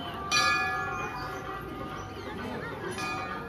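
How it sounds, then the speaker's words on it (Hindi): A bright metallic temple bell strikes twice, about two and a half seconds apart, ringing out over a murmuring crowd and chatter at a Mahashivratri gathering in Ranchi. "ये घंटी बाजुची"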